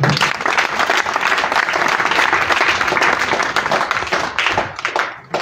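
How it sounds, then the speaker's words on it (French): An audience applauds children at an orphanage project launch ceremony: dense, steady clapping from many hands, loud and continuous, thinning slightly at the very end. "je vous demande d'accorder des applaudissements nourris pour ces enfants"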